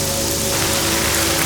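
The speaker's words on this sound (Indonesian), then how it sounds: "Sekarang hujannya sudah cukup deras dan angin bertiup sangat kencang." A dense, steady roar of heavy rainfall driven by strong wind, with a hissing, blustery wash, loud and close, no voices.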